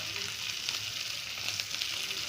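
Cabbage, carrot, onion and slit green chilies frying in a pan, giving a steady, dense sizzle that holds evenly throughout with no voices over it.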